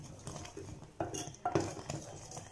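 A metal spoon stirs sugar syrup in a pan, making irregular clinks and scrapes against the pan at close range, with no talking.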